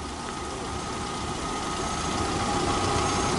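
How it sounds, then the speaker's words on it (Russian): Used VAZ-2112 car engine idling steadily, a dense continuous rumble with a constant hum, close and loud with no talking. "Но движок хорошо работает."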